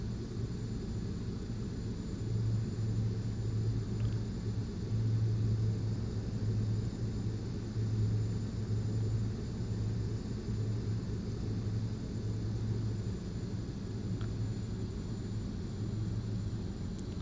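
Twin propeller engines of a King Air B200 in the FSX flight simulator, a steady low droning rumble with a faint pulsing tone, continuous and even throughout with no talking.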